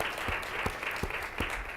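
Audience applause for students at a Black History Month unity forum, a steady wash of clapping with a few sharper claps standing out in a regular rhythm.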